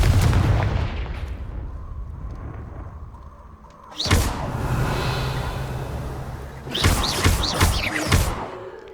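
A Confringo blasting spell explodes in the Hogwarts Legacy video game, with loud booming bursts hitting sharply around four seconds and again near seven seconds over continuous game noise.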